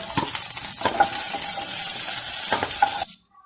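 Rava masala idli frying in butter in a pan, a steady bright sizzle with occasional soft stirring clicks, close and continuous before cutting off abruptly near the end.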